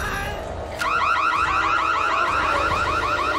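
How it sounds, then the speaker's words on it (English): Loud electronic alarm from the horror film Hush: a rapidly warbling, sweeping siren-like tone cuts in under a second and continues steadily, piercing over a low background hum. "It just sounds like a regular alarm."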